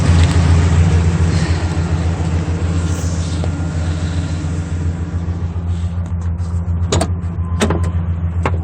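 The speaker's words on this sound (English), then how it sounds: "Truck has been running for a minute." A Ford F-series pickup's 5.4L Triton V8 idles with a deep, steady rumble close by, and a few sharp clicks sound near the end.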